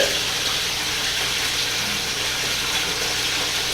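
Water pours steadily into a newly built garden pond in a continuous, close gushing rush with no breaks and no talking.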